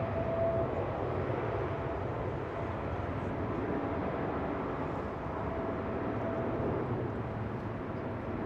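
Boeing 787 Dreamliner airliner at Amsterdam Schiphol departing at full takeoff power, a broad, steady roar of jet engines heard from a distance, even in level throughout with no talking.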